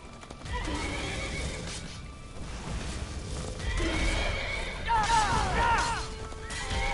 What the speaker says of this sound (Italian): Qui ci sono due cavalli che stanno combattendo.